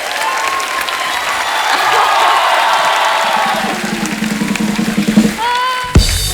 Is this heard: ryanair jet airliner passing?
no